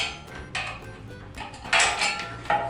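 Metal drywall ceiling profile being cut with snips, a few sharp metallic clicks and scraping bursts close by, with louder crisp cuts near the end.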